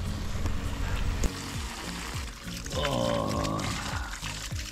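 A mountain stream on Belasitsa keeps up a steady, close rush of flowing and splashing water, with a pouring, gurgling texture.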